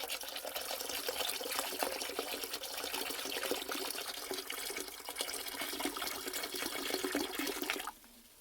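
Continuous splashing and gurgling of antifreeze pouring into the water of a toilet for several seconds, close up, then stopping abruptly.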